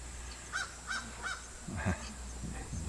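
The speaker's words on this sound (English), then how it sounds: "You can probably hear that crow in the background." A crow caws several times in the background on a New Hampshire donkey farm, a quick series of short calls over a steady low hum, with faint rustling and handling noise near the end.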